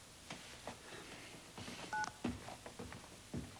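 A telephone is dialed in an emergency to call an ambulance, giving a short series of distinct keypad tones with pauses between presses against a quiet room background.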